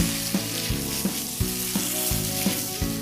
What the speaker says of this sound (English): I'm going to carefully turn each piece over and we're going to fry it again.